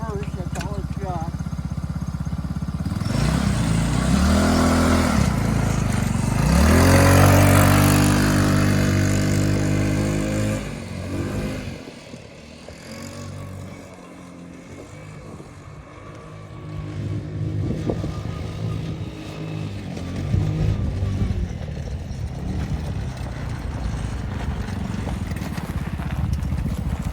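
The small engine of a simple forward-and-reverse vehicle runs close by as it is driven, rising and falling with revs, while people talk over it.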